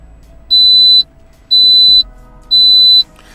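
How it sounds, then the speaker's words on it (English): A Barsetto Grind & Brew automatic coffeemaker gives three loud, evenly spaced electronic beeps, each about half a second long, close and clear over a quiet background. "it also makes this terrible beeping noise"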